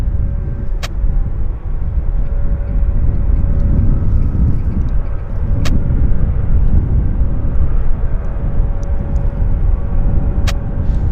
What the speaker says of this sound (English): we've got an American Airlines 737 inbound from Dallas Fort Worth